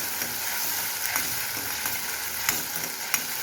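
Gravy seasoned with black peppercorns and a bay leaf fries in hot oil, giving a steady close sizzle with occasional soft scraping and stirring clicks.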